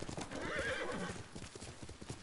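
A horse gallops and whinnies in Ghost of Tsushima, rapid hoofbeats pounding close while a loud neigh rises over them near the start.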